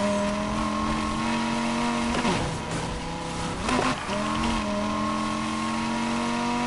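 In a driving video game, a car engine drones at high revs without a break, with two brief dips where it shifts or brakes before climbing again. It is loud and close, and nobody talks over it.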